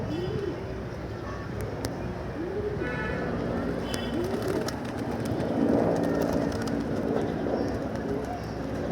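Pigeons in a loft coo repeatedly in soft, rolling phrases close at hand, several birds overlapping over a low background hum with occasional faint clicks and rustles.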